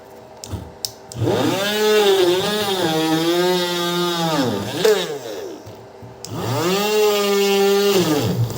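An electric drill bores holes to mount a pump on a homemade motorcycle and car washing machine. Its motor whines in two long, loud bursts, the pitch rising and sagging as the bit bites, with a short pause between them.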